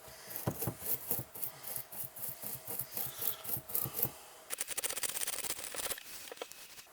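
An abrasive is rubbed back and forth over the electrical tracks of an instrument panel from a Lotus Elan M100, making quiet rhythmic scratchy strokes. A denser, faster burst of scrubbing follows near the end.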